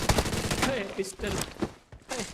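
Rapid bursts of machine gun fire in the battle royale game PUBG Mobile, with short cracking volleys broken by brief gaps, fairly close and mixed with other in-game noise.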